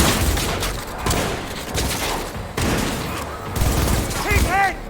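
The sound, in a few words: gunfire in the video game Cyberpunk 2077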